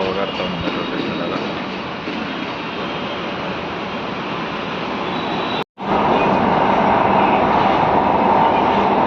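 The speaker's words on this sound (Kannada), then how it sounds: "ಮೆಟ್ರೋದಾಗ ಹೋಗ್ತಾ ಇದ್ದೀನಿ ನೋಡಿ." A metro train carries a wheelchair user along the line, giving a continuous rumbling hum and rush of the carriage in motion. The sound drops out for a moment midway, then returns slightly louder.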